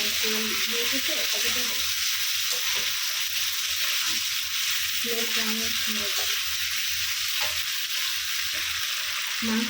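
Marinated pigeon meat sizzles in a pan as it is stirred through with spices, a constant frying crackle broken by repeated scraping stirs of the spoon, with no talking.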